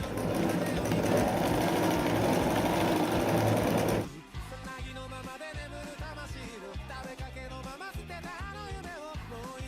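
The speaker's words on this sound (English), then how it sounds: "Sew the two legs front parts together." A sewing machine runs steadily while stitching the front leg parts of cosplay training-uniform trousers, a loud continuous buzzing hum that shifts to a choppier, pulsing rhythm partway through, close up.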